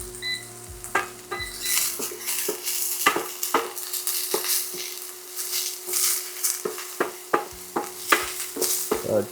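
Onion cooks in a pan as the start of a beurre blanc for pollock, with frequent sharp clinks and scrapes of a utensil stirring against the pan over a steady low sizzle, close and without talk.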